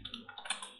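A few quick, light clicks of keys on a computer keyboard, faint and close, over less than a second.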